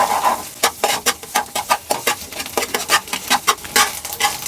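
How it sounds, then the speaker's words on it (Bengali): Egg being scrambled and fried in a pan, with a steady series of close, sharp stirring scrapes and taps over a soft background sizzle, and no talking. "এখন আমি ডিমটাকে স্ক্রাম্বল করে নিব। এটাকে খুব ভালোভাবে ঝুরি ঝুরি করে ভেজে নিতে হবে।"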